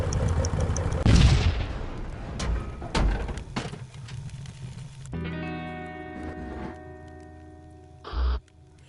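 Grenade blast in the VR puzzle game I Expect You To Die: a loud, broad burst of explosion and rumbling debris early on, several sharp booms after it, then a tonal musical drone and a short thump near the end.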